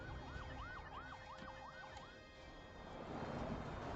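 Wailing police car sirens sweep up and down repeatedly in the distance, fading as a rumbling road and engine wash rises underneath.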